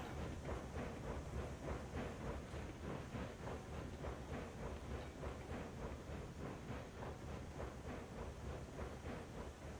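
A train crawls slowly along the rails in the RAILROADS Online game, a dense steady rumble with rapid rhythmic clicking and faint hiss throughout, nobody speaking.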